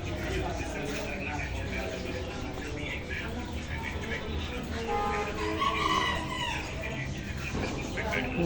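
Chickens cluck and a rooster crows amid other birds, with people talking in a noisy indoor market.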